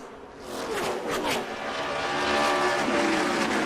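ARCA Menards Series race cars roaring around Gateway Motorsports Park, with several engines swelling and passing in a loud layered drone that builds and stays strong toward the end, plus faint tire noise.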